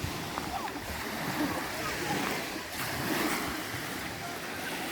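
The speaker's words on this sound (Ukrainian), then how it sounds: "От я вже вийшов до моря." Continuous surf washes against a Croatian beach with a broad hiss of breaking waves and some wind noise, steady and fairly distant.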